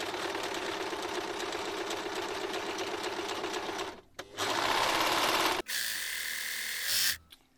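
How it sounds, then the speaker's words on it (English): A serger sewing machine overlocks the raw edges of scrap fabric, running in a loud, steady mechanical whir for about four seconds, then in two more shorter bursts separated by brief pauses. "I'm going to quickly serge the edges just to tidy them up"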